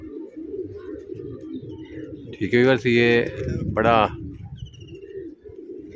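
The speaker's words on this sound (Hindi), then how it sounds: "ये आ गया वो दुबास कबूतर।" A dubaz pigeon coos in two short, close bursts over a low background hum, while someone talks nearby.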